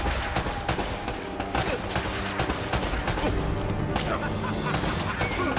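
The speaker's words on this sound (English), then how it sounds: "Are we getting shot up from over here?" Sustained enemy gunfire in Uncharted: Drake's Fortune, a dense fusillade of rapid overlapping shots and distant cracks rolling on without pause, fairly quiet in the mix, with no talk over it.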